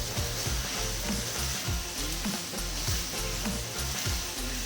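Meat stir-frying in a pan: a loud, continuous sizzle with a dense crackle and the dull knock of a utensil scraping and tossing, close up and without talk.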